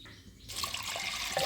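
Water poured over lentils in a cooker for sambar starts abruptly after a short quiet moment, then a steady, fairly soft splash and trickle continues.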